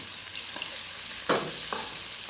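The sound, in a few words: beef frying and being stirred in a karahi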